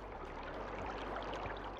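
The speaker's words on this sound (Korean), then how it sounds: "떨어지는 폭포 소리." Steady, faint rush of falling waterfall water, an even broadband wash with no clear breaks through the whole stretch.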